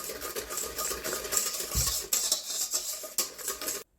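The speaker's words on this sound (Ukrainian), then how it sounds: "І все також гарно вінчиком перемішаю" A whisk works yeast into a dough mixture in a bowl, producing a continuous close, brisk clatter and scrape of metal against the bowl before stopping abruptly.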